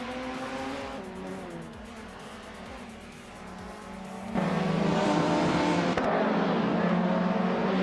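A 1985 Peugeot 205 Rally race car in a racing game, engine note rising through gears with tire noise, then a louder, harsher surge as it accelerates past, steady and close.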